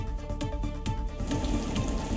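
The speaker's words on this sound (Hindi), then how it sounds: "उत्तर प्रदेश के कई इलाकों में देर रात से तेज आंधी के साथ रुक रुक कर बारिश हो रही है।" Heavy rain falling late at night in Lucknow, Uttar Pradesh, during a strong storm, a dense, steady hiss with crackling drops and low rumble, continuous and loud throughout.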